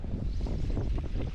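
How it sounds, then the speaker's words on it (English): Wind buffets loudly and roughly, a continuous low rumbling gust with no voices. "that wind's blowing"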